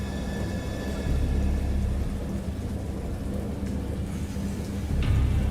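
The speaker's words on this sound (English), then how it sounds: "Peals of thunder?" Thunder rumbles low and steady in the game Dagon, mixed with constant rain-like hiss, with a swell of heavier rumble near the end.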